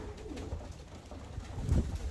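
Racing ring pigeons cooing close by, a few soft low coos rising and falling over a steady background, with one louder coo near the end and no talking.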